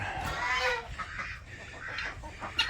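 Several chickens cluck and murmur nearby in short, uneven bursts, with a sharper squawk near the end over a quiet background.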